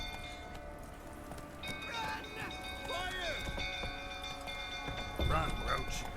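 Roach the horse gallops in the video game Witcher 3, with rhythmic hoofbeats running beneath tonal game sounds and voices.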